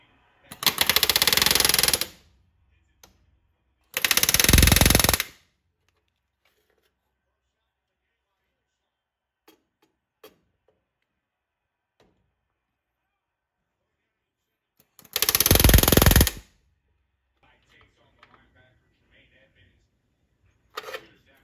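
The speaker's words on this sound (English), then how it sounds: "I begin by setting the rivets between the side skins and the 1411 and 1410 bulkheads" Pneumatic rivet gun setting rivets between the lower side skins and bulkheads of a Van's RV-14 aft fuselage: three loud sustained bursts of about a second or two each, separated by quiet gaps, with a faint short burst at the end.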